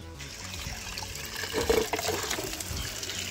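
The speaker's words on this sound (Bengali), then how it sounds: "তো আমি একটু জলটা ফটাফট দিয়ে দিই গাছে।" Water is poured onto dried-out potted plants on a rooftop, a soft continuous trickle and splash that swells briefly midway and stays fairly faint.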